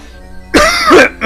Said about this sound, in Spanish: Ya me entró la tos de mierda.